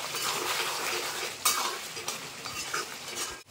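Mutton curry in a pot is stirred and fried with a metal spoon, giving steady sizzling with clinks and scrapes against the pot, close and fairly loud, with no talking.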